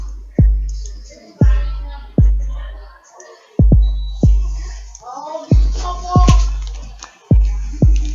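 Deep, booming kick drum sample from an FL Studio session, struck about ten times in a steady loop, each hit loud and close with a long low decay.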